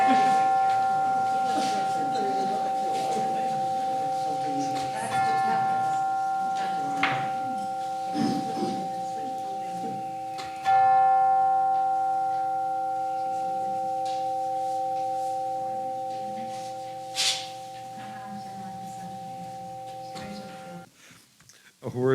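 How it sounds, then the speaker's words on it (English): A bell rings at the start of a worship service, giving sustained, ringing tones that strike again partway through and fade slowly, with people moving and speaking quietly in the background. "now we will center our hearts and minds with the ringing of the bell"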